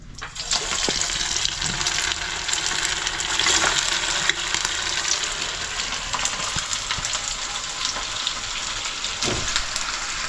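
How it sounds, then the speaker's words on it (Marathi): Vadas dropped one by one into hot oil on a lowered gas flame give a steady, close, broadband sizzle of deep frying that runs throughout, no one speaking. "जरा तेल तापलं म्हणून जरा गॅस कमी करते आणि एक एक वडा सोडते"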